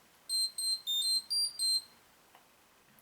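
A Mighty Morphin Power Rangers Bluetooth communicator plays a high electronic notification tone, a quick run of about five bright beeps in a row, then quiet.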